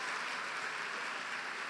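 An audience at a church women's congress applauds in a steady, fairly quiet wash of clapping heard from a distance, with no voices standing out.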